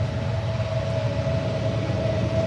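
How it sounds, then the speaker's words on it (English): A passing train rumbles low and steady nearby, with a sustained tonal hum riding above the heavy rolling noise for a few seconds. "Here's the train."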